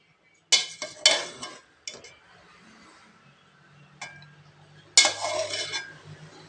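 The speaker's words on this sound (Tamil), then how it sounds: "மேலாக கிளறி விட்டுக்கலாங்க." Pea pulao in a cooking pot being stirred with cashews fried in ghee scattered over it: sharp spoon clinks against the metal rim, then softer scraping through the rice and a final loud clatter, close by, with a faint low hum underneath.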